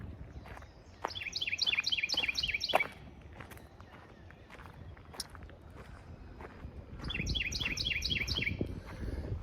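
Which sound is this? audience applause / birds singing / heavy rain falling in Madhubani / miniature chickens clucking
birds singing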